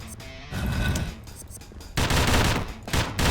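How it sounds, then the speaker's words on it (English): Rapid bursts of shotgun fire in the video game Dungreed, loud clustered blasts coming in two quick volleys with a brief gap between them. "Dangerous shotgun."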